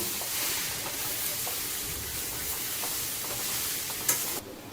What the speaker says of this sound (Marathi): आता आपण पूर्ण असे काढून घेऊ आणि चांगले परतून घेऊया.